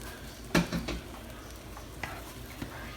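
Vegetables for Jamaican steamed fish are stirred in a pot, giving a few close scraping clinks of the utensil against the pot over a quiet, faint sizzle.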